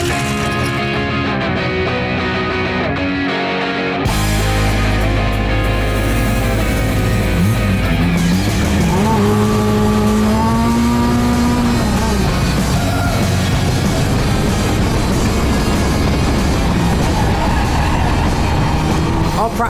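A race car on track at practice, engine roaring loud and continuous with pitch climbing and shifting through gears, close and saturated.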